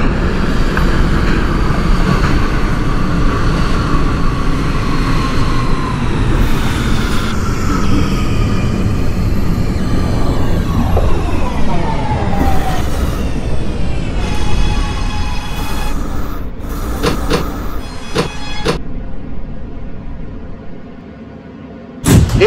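An R211T subway train runs on a C local in the OpenBVE simulator, a loud steady rumble of motors and wheels on rails with rising and falling whine, then an easing as it slows near the end.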